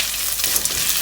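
Ginger and garlic frying in a pan for a vegan chickpea curry, giving a steady, dense sizzle with a faint stirring texture, close and fairly loud with no voices.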